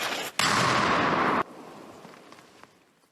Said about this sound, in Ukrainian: Міномет!